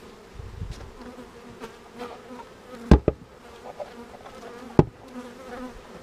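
Honey bees from a laying worker hive hum steadily throughout, a dense buzzing swarm, with a couple of sharp knocks breaking through.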